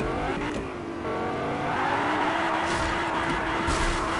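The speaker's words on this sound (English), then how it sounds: "I'm drifting, buddies." A car engine roars and tires squeal as the car drifts in a PS4 video game, a loud continuous revving whine with rising and falling pitch and no voices.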